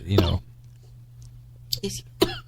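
A single sharp cough close to the mic, followed by a couple of softer throat sounds over a low steady hum.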